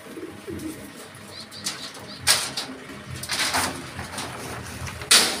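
Racing pigeon arriving home at a loft on race day in Matnog, wings flapping in a few bursts, with soft cooing and background bird sounds close to the microphone.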